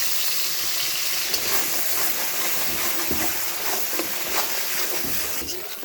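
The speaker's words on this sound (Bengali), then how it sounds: "এখন পেঁয়াজ আর কাঁচা লঙ্কা পেস্টটা ভালো করে ভেজে নিচ্ছি।" Onion and green chili paste fries in hot oil spiced with cardamom, cinnamon and a whole dried red chili, giving a steady, loud sizzling hiss with scattered faint clicks and pops and no talking.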